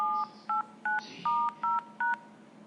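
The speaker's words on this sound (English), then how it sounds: "This file contains all the possible dual tone multi-frequencies that will be used." Telephone keypad DTMF dual-tone beeps, recorded with a computer and a smartphone: seven short, clean tone bursts at an even pace, each a steady two-note chirp with brief silences between them, alone and close.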